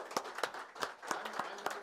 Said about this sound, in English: Oh, we clap now.